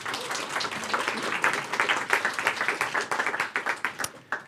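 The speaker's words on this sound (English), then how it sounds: "I think we should give the organizers a round of applause" A meetup audience claps for the organizers in dense, steady applause that thins out toward the end into a few separate claps, close and lively, without speech.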